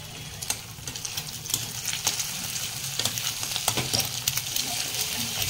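Eggs fry in a pan with a soft, steady sizzle while a utensil stirs and taps against the metal in scattered clicks and scrapes. No one speaks.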